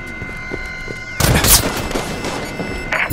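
Halo 5 multiplayer gunfire opens with a sudden loud burst of rapid shots, then a sustained crackling volley, with a game announcer voice and faint tones before it.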